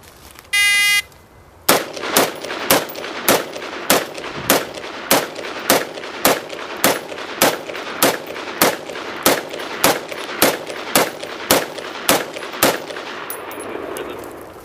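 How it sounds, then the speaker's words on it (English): An AR-15 rifle empties a 20-round magazine outdoors, the sharp, loud shots coming one after another in an even rhythm for about twelve seconds, with a brief electronic beep from a shot timer before the first round. "shooting an AR-15 with 1 20-round magazine"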